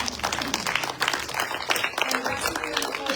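A church congregation at a Sunday service, standing to applaud its pastors. The clapping is dense and sustained, filling the room evenly for several seconds at moderate loudness with a light murmur of voices mixed in.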